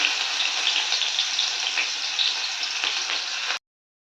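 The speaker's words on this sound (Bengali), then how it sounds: "পেঁয়াজটা ভাজতে দিয়েছি" Onion frying in hot oil for a tilapia fish curry, a bright steady sizzle heard close and loud, ending abruptly.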